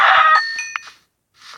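A Minecraft chicken clucks in a short, bright burst up close, followed by a couple of small clicks and a faint trailing sound.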